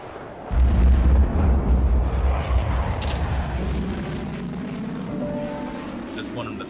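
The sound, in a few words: artillery strike explosions in tactical video game Direct Contact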